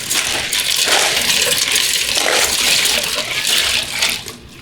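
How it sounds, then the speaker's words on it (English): Ice poured into turkey brine liquid, a loud rushing clatter of cubes splashing and tumbling into the liquid, steady for several seconds before tapering off. "we're going to add a little bit of ice"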